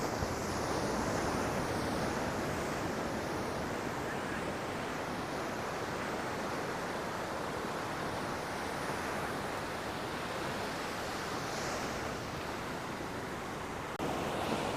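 Sea waves of the Arabian Sea breaking on Varkala Beach, a continuous broad roar of surf with wind rushing across the microphone, steady and close, no voices.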